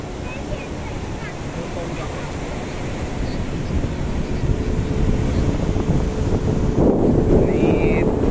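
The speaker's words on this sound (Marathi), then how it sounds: "मस्त सुंदर अशा लाटा येत आहेत" Ocean waves at Talashil Beach on the Konkan coast at sunset, a steady broadband wash of surf mixed with wind buffeting the microphone, continuous and fairly loud, with a swell building near the end.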